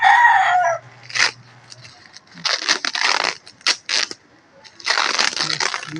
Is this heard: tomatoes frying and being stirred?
no